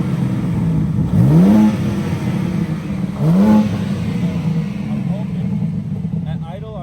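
A BMW G80 M3 with stock intakes idles, then its engine revs sharply twice, each blip rising and falling quickly. The revs are close and loud over a steady idle, with voices nearby.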